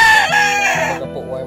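A rooster crows once in a loud, close call that rises and trails off, with the birds being exercised by their handler; faint background noise follows after the crow ends.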